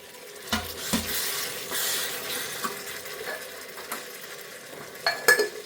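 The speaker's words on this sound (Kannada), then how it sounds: "ಇದನ್ನು ಟೊಮೊಟೊನ ಹಾಕ್ಕೊಳ್ಳೋಣ" Chopped tomatoes tip into a hot pan for tomato bath, giving a soft sizzle with a few scattered clatters and stirring knocks; quiet and close, no talking.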